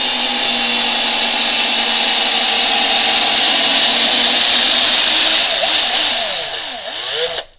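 A Parkside PABS 20-Li D4 cordless drill whines steadily while driving a 10 mm screw, loud and close, then slows near the end with wavering pitch sweeps before cutting off.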